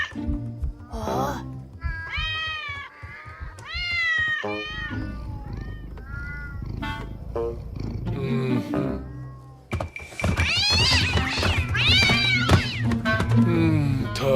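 A cat meows repeatedly in drawn-out, wavering cries, some rising into caterwauling, close and loud, with voices talking around and between the calls.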